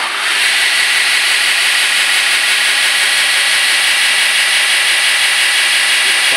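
A belt grinder sander runs with a steady, loud, close hissing whine of the abrasive belt spinning, starting up at the beginning and holding even throughout.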